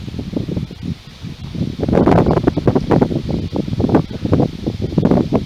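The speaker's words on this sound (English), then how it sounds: "It's definitely a windy day out here" Wind gusting across a lake during a canoe outing, a steady broadband rush with loud surging gusts buffeting the microphone, strongest in the middle and latter part, with no talk over it.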